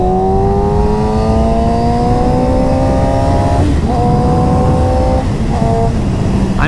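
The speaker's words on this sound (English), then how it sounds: "I'm not sure which part is worse for me, if it's the engine sound or the wind just passing by my helmet." Yamaha R6 motorcycle heard while riding: a loud, continuous engine whine with rising harmonic tones and gear-change breaks, blended with constant wind rush over the helmet.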